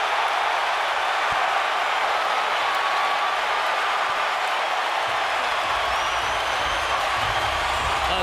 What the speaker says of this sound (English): A deafening roar in Omaha